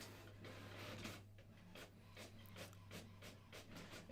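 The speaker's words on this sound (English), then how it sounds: "If you hear a printer, it's my wife printing some stuff in the background." A printer runs in the background, giving a faint, steady series of rhythmic mechanical passes and bursts, with no talking.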